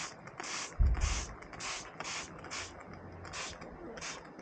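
Household window cleaner is sprayed onto a sheet of kitchen towel held over a headlamp, giving a series of about eight short, evenly spaced hissing pump sprays, fairly near and moderately quiet.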